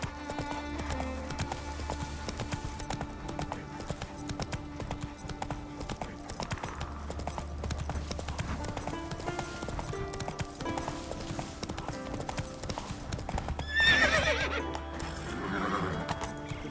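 Roach, the horse in The Witcher 3, gallops with rhythmic hoofbeats and lets out repeated loud neighs and whinnies over layered game music and ambience, with hardly any talk.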